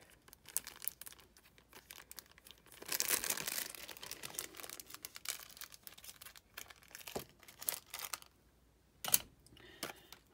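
Packaging from a Temu parcel is torn and crinkled open, making close, irregular bursts of crackling plastic and paper with a long tearing stretch partway through and quieter rustling in between, with no talking.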